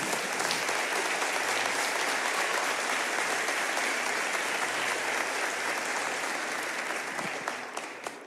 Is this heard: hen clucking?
no